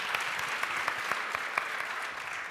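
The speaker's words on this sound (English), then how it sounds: "Clap for that." Audience at an entrepreneurs master class giving a short burst of applause, scattered sharp claps over a soft wash of clapping, moderately distant and fading slightly at the end.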